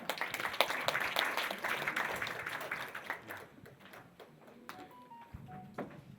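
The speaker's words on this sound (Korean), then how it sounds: "큰 박수로 맞이해 주시기 바랍니다" An audience at a startup conference claps to welcome four panelists to the stage; the applause is moderately loud at first, thins out after a few seconds, and ends with a few faint tones and a dull knock.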